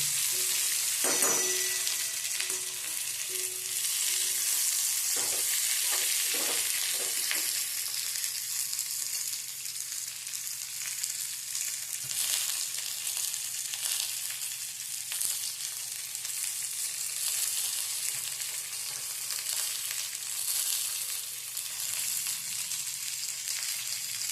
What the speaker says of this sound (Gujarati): હવે આપણે એમાં ડુંગળી નાખી દેવાની અને આ ડુંગળીને આપણે થોડીક સાતળી દેવાની